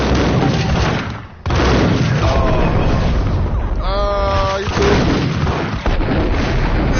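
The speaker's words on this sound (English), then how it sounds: "You threw a grenade." A grenade explodes in the Max Payne shooter game, loud heavy blasts and rapid gunfire filling the scene, broken by a brief pause and a short voice cry.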